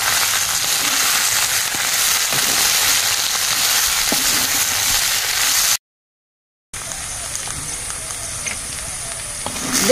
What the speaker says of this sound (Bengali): 1 চামচ আদা বাটা দিয়ে দেব, দিয়ে ভালো করে ভেজে নেব।